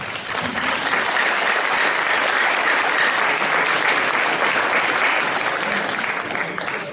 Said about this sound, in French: Merci d'applaudir Marcos Freitas.